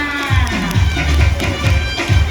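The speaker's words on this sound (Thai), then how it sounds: "ปรบมือให้คุณหมอค่ะ" Crowd at a dolphin show claps for the vet, a loud thumping burst of applause in repeated waves, close and boomy, with voices mixed in.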